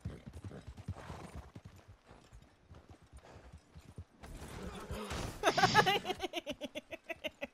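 Rapid rhythmic hoofbeats of a horse in a video game clip-clop steadily throughout, growing louder toward the end, with a burst of louder noise and faint voices in the middle.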